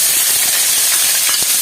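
Shallots hit hot oil in a pan after mustard seeds have popped, setting off a loud, close, continuous sizzling hiss with a few faint crackles inside it.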